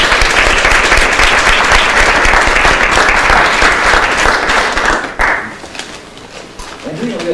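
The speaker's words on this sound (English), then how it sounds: "So please give them a round of applause" Applause from a university luncheon audience at a faculty round table, a dense steady round of clapping that fills the room for about five seconds before fading out, with a voice starting to talk at the end.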